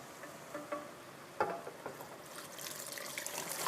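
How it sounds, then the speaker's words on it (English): Six cups of water pour steadily into a pot for garlic soup, a continuous splashing rush that builds and grows brighter toward the end, with no talking. "I've measured out 6 cups of water, which I'm going to just pour on in here"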